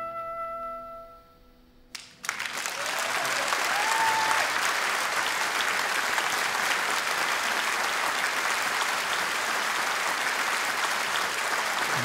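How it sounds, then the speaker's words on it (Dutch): Quiet instrumental tones fade out, and then a concert audience breaks into loud, sustained applause that carries on steadily to the end. "Geef me gewoon applaus."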